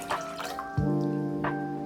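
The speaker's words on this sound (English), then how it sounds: "I'm gonna go ahead and pour in all 4 cups of this beautiful sweet violet tea" Sweet violet tea is poured into a pot on a stove over low heat, a few soft drips followed by a sudden steady splashing stream of liquid.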